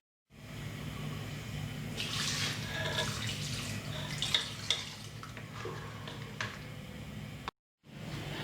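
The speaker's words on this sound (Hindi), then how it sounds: "मैं थोड़ा पतला करना चाहती हूँ, मैं और पानी डालूँगी" Water poured into a thick mutton and potato gravy in a pot, a steady wet splashing and bubbling stir that runs for several seconds at moderate level, then stops briefly before resuming.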